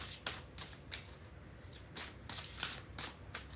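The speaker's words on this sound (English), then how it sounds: "3 more shuffles" A deck of Sacred Forest Oracle cards is shuffled close up in a quiet room, giving a series of quick, crisp riffling bursts in an uneven rhythm, with no talking.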